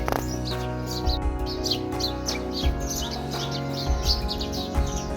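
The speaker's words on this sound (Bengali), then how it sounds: "পাখিগুলো খুব ঝগড়া করছে" Birds squabble with rapid, overlapping chirps and tweets that come in bursts throughout, over a steady low hum in the background.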